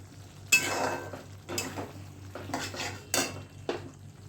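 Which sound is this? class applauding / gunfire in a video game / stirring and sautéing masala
stirring and sautéing masala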